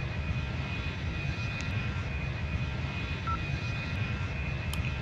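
Steady, loud airliner engine drone from the Airline Commander mobile flight game, a continuous broadband roar with a faint high whine held evenly throughout, no voices.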